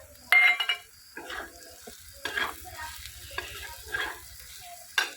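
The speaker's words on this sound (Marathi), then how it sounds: "असं अंडा भुर्जी बनवायचं चाललं आहे मस्त असं ना कांदा परतलेला आहे छान असं तेलात बघा तळलेला आहे कांदा" Chopped onion frying in oil in a pan for egg bhurji, a soft continuous sizzle broken by several sharp spatula scrapes and stirs at irregular intervals, close and without talk.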